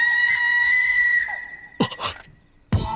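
A woman screams in an anime movie, a sustained high-pitched cry over music that cuts off, followed by brief bursts of voice and shuffling.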